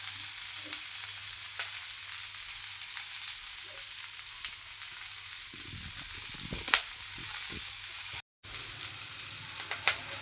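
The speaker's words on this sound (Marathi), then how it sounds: "आपण या भेंडीला एक दहा एक मिनटं आपण चांगल्या प्रकारे फ्राय करून घेऊया गॅसची फ्लेम मिडियम टू लो ठेवायची आहे" Okra fries in a pan over a medium-low gas flame, a steady close sizzle and crackle throughout, with a few stirring scrapes near the end and a brief dropout.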